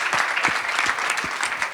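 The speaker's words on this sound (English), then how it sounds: "Clap it up, y'all." A crowd applauds at a fraternity show for La Unidad Latina, Lambda Upsilon Lambda, Alpha Chi Chapter: steady, dense clapping that carries on evenly throughout, with no voices over it.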